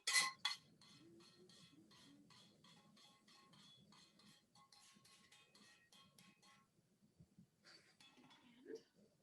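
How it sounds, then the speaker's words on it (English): Fried ingredients scraped and tipped from a frying pan into a pot of cooked lentils, giving quick metallic clinks and taps at first, then quieter scraping and a few more clinks. "you're just going to dump in everything from the frying pan"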